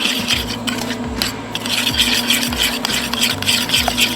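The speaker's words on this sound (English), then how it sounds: "And we'll just mix that together." Melted butter and packed brown sugar being stirred together in a bowl for a smoked apple dessert, a steady close scraping and rubbing of the spoon with repeated strokes, alone without talk.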